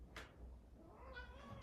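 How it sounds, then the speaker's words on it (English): A male cat gives a meow that rises and falls, fairly near, heard once in a quiet indoor room with a faint low background hum. "I'm on the lookout for the cat because, oh, there he is."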